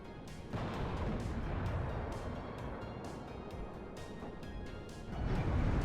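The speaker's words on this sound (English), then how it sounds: "From this side, the Abrams just railing on that building" An Abrams tank fires on a building in the WARNO strategy game, with repeated sharp booming shots at irregular intervals over a dense, rumbling battle din.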